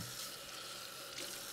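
Tap water runs steadily into a kitchen sink while something is rinsed during home cooking of a keto lasagna, a faint continuous splashing hiss with no talk.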